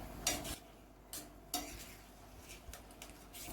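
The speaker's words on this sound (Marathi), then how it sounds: "अगदी छान फेटून घ्यायची अंडी याच्यामध्ये." Eggs with spices being stirred in a hot pan for egg bhurji, with a few sharp spoon scrapes and clinks against the pan over a quiet, soft sizzle.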